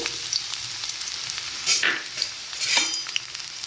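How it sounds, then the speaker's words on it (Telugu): Onions sizzle and fry in hot oil in a kadai, a bright crackling hiss with two louder bursts as they are stirred, close and alone without talk. "బాండ్లు పెట్టుకొని ఆయిల్ వేసుకొని ఇప్పుడు ఆనియన్స్ వేసుకోవాలండి."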